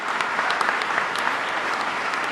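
A crowd at a city beautification awards ceremony in Huntsville applauds, a steady, even wash of many hands clapping throughout with no break.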